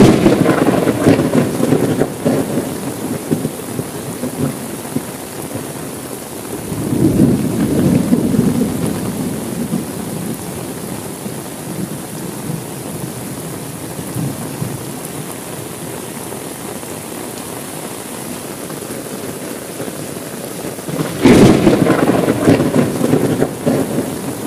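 Heavy night rain pours steadily throughout, with deep rolling thunder swelling early on, rumbling again around the middle and cracking once more near the end, no voices.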